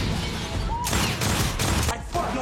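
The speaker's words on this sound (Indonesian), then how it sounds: "Tiba di gudang ini, Tez langsung menembak kaki keamanannya" A film gangster opens fire on security guards at a warehouse, and a rapid volley of loud gunshots bursts out over a dense, noisy action soundtrack.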